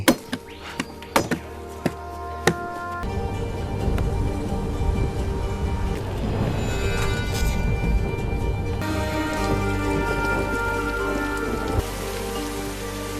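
Steady, dense rainfall drums on surfaces throughout, a continuous hiss that starts after a few sharp knocks and plinks and carries on evenly, loud and close, with no voices.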